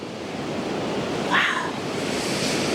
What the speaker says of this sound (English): Just listen to the waves.